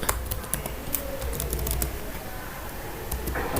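Typing on a computer keyboard, a quick irregular patter of key clicks up close against a steady low background hum, with no voice.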